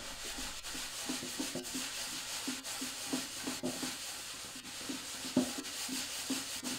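Paste wax being rubbed by hand into the wood of a homemade Meinl bongo cajon, a steady close scrubbing and rubbing texture that continues without pause and without talk.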